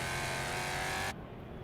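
A NASCAR mod car engine in third gear in the racing game Wreckfest drones at high revs, then cuts off abruptly after about a second, leaving a quieter engine hum.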